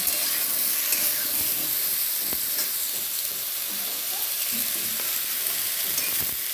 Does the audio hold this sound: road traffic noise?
no